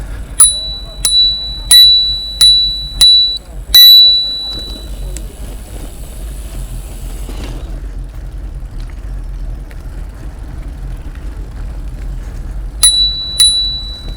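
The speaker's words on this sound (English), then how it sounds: "Quick tinkle on the bell." A bicycle bell on a Brompton folding bike rings in a quick series of bright dings, then falls quiet under steady road and wind noise, before a couple more rings sound near the end on a canal path outside Oxford.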